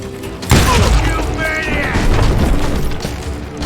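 Shotgun blasts and street gunfire in the Western shooter Call of Juarez: Gunslinger, a loud boom opening a dense, sustained barrage of crashing shots and clatter.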